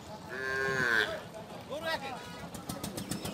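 A cow at a large cattle market in Rajshahi gives a loud, drawn-out moo up close, followed by a shorter second call, with market voices and background noise around it.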